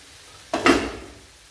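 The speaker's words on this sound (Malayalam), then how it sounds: "ഇനി നമുക്കിതൊന്ന് ഇളക്കി കൊടുക്കാം" A single brief scrape and clatter as vegetables frying in coconut oil are stirred in a pan for a curry, with a faint sizzle lingering before and after.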